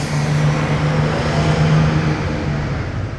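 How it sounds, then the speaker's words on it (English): An Israeli bus passes on the road close by, a loud, steady engine and tyre roar holding for several seconds before easing slightly. "The bus you just saw passing is an Israeli bus."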